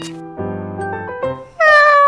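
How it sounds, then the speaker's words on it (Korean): A house cat meows indoors, a few drawn-out calls followed by a louder, higher final meow, close and clear with no talk. "근데 고양이가 있으니 조심해."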